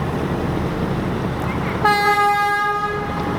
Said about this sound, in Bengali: অনেক বড় লঞ্চ কিন্তু এটা, খেপুপাড়া থেকে সদরঘাট আসলো